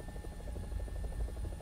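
A War Thunder helicopter's rotor thumps in a fast, steady beat with a heavy low drone and a thin high whine, loud and continuous throughout.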